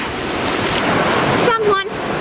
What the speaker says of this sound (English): Ooh, the waves.